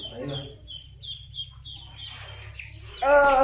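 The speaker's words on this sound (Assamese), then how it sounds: "হাঁহৰ পোৱালিকেইটা ওলাই যাব" Ducklings peep in high, short repeated calls at close range, with a person talking over them and a louder burst of calls near the end.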